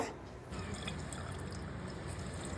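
Water drains from chhena, fresh cheese curds strained through cloth set in a sieve, as a faint steady trickle with soft drips, close by and heard alone.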